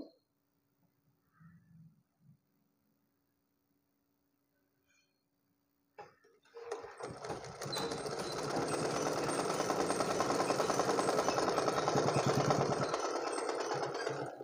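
After a quiet start with a few small clicks, a sewing machine stitching a blouse starts up and runs at a steady, rapid, even pace for several seconds, then eases off.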